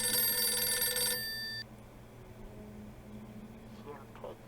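A loud, shrill phone ring in the horror game Visage trills for just over a second, then a thinner tail fades out over a low ambient hum, with faint speech-like sounds near the end.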